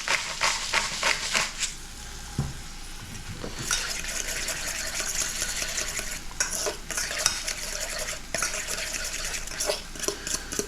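A carbonara mixture of egg, grated cheese and black pepper is stirred in a bowl, with a steady close wet scraping and clinking of the utensil, a few louder knocks, and no talking.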